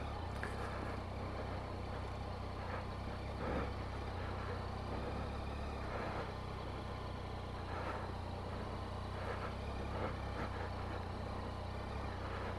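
A Triumph Tiger 800 XCA motorcycle on the wrong tyres rumbles along a rough old country road, a low continuous engine drone with steady wind noise and no talking.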